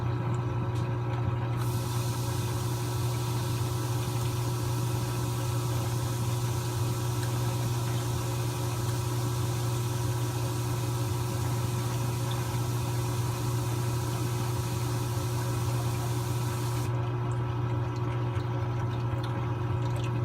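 Homemade wash-down spray for an aquarium protein skimmer cup, water jetting against the cup's outer wall, gives a steady, loud, continuous hiss and rumble that runs unbroken for the whole stretch with no talking.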